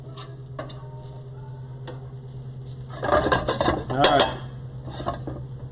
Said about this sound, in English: we are going to deglaze the pan and scrape up all that great flavor